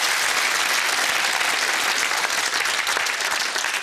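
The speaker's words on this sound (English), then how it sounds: "Round of applause to Richard." Studio audience on the UK TV game show Whittle applauds a contestant, a dense, even burst of clapping that holds at full strength throughout.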